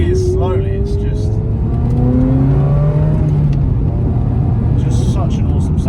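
Ferrari 355 accelerating gently up through the gears at moderate revs, loud engine pitch climbing in several smooth sweeps with gear changes between, and someone talking over the engine.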